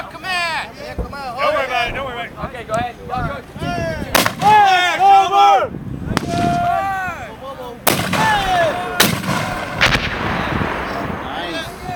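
Mortar teams live-fire at Camp Blanding, sending several sharp, loud blasts across an open range while people shout commands between the shots.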